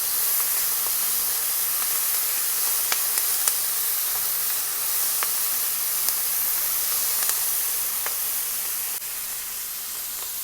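Onions sautéing in a pan, a steady close sizzling hiss running throughout with scattered faint pops and crackles and no voices.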